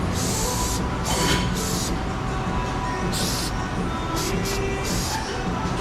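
Aerosol brake cleaner spraying onto a thick, grimy oil caddy in a garage, several loud hissing bursts of varying length separated by short pauses, with a background hum running underneath.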